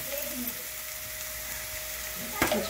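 Spice masala with coriander powder sizzling in a pan over gas as a little water is added, a steady close hiss of frying with a short scrape or splash near the end.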